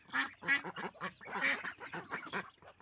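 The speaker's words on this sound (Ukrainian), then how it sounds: "качечки і гусочки всі їдять" Ducks and geese honk and quack in quick, overlapping calls close by while eating, a busy flock chattering without pause.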